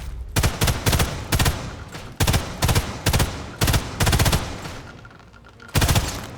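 Gunfire in the Sniper Elite 5 survival mode comes as rapid clusters of sharp shots, a dozen short bursts in an uneven rhythm, loud and close, with a pause before a final burst.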